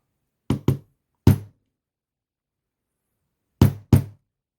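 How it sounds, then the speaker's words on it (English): A metal hex key strikes bolts to knock them out of a bicycle frame during assembly, giving five sharp, close, isolated knocks, two quick pairs and a single strike, separated by silence. "I'm gonna just use a matching hex key"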